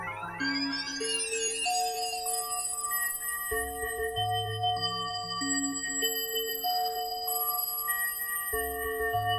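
A visual synthesiser plays sustained electronic tones tuned to phi-ratio partials, with bright glissando-like chimes at the start settling into layered, overlapping held notes that shift in steady steps, loud and alone with no talking.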